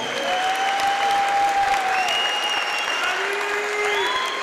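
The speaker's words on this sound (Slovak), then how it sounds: "takže ešte na jeden veľký potlesk pre Pala Berkiho!" An audience at the Noc Gladiátorov 8 gala opening applauds steadily throughout, a dense, even wash of clapping with a few whistles rising above it.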